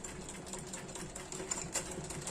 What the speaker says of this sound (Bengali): আমি যে এখানে লক সেলাই দিয়ে দিচ্ছি এটা